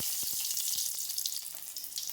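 Fenugreek seeds frying in hot oil give a steady, close hiss of sizzling with a few soft ticks and pops scattered through, with no voices over it.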